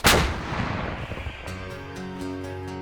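A single heavy artillery boom at the start, loud and close, with a long rumbling decay fading over the next couple of seconds.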